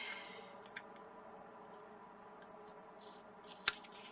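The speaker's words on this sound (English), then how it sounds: "I'm just going to take a snip and go straight up and down" Scissors cut paper for a flip flap book, giving one crisp snip near the end against a quiet room hiss.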